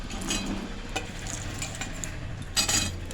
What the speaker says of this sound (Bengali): রোদে যে আমগুলো দিয়েছিলাম সেই আমগুলো তেলের মধ্যে আমি ছেড়ে দিচ্ছি